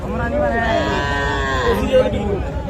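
A cross-breed bull calf at a rural cattle market gives a long, loud, drawn-out moo close by, with the bustle of the market underneath.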